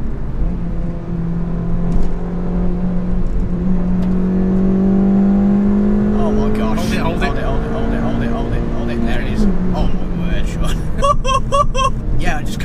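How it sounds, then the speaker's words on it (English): A 2019 Suzuki Swift Sport's engine revs freely, a loud droning note climbing steadily in pitch for several seconds before easing off, with people talking over it. "And it's happy revving, isn't it?"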